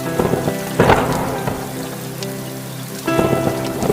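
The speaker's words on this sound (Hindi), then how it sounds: "जोरदार बारिश आ गई और देखते ही देखते तेज बारिश होने लगी" Heavy rain pours down steadily, a dense hiss of falling water that swells and eases, with faint rumbling beneath and no voices.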